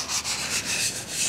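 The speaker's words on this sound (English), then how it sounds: "just go through and do a light sanding to get all the residue off" Light hand sanding scrubs the steel surface of a 7.3 Powerstroke engine part to clear residue, nicks and gouges, giving a short, steady, close rasping rub with a few rhythmic strokes.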